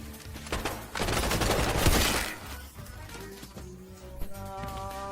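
Gunfire in the Delta Force video game: a dense, loud burst of rapid shots rises and then fades. Scattered cracks and game sound effects follow.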